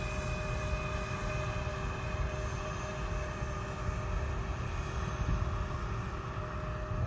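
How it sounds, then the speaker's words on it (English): Nine-year-old Embraer E-175 jet heard at an airport, a steady loud engine roar with a sustained whine, constant and without talk. "E-175, this aircraft here, 9 years old."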